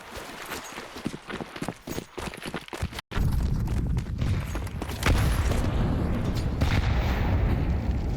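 Counter-Strike match on the Ancient map: rapid bursts of gunfire shot through walls crack close and sharp at first, then give way to a dense, sustained rumble of shooting and in-game noise.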